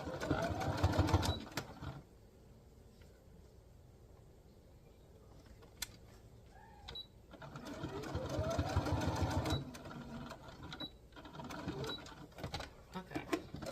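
Sewing machine back-stitching pleats on fabric cut from vintage sheets, a quiet mechanical whir in short forward-and-reverse runs with pauses between, and someone talking over parts of it.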